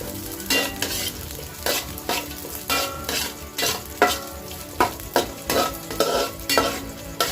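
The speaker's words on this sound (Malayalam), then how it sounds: "നെയ്യ് ഒഴിച്ച് നമ്മുടെ അണ്ടിപ്പരിപ്പും മുന്തിരി ഒന്ന് വറുത്തെടുക്കാം." Cashews and raisins frying in ghee for a pineapple semiya payasam, a bright sizzle broken by repeated scraping stirs and spoon knocks in an uneven rhythm, close and fairly loud, with no voices.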